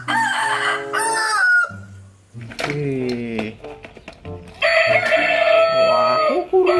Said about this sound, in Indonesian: ada ayam teman-teman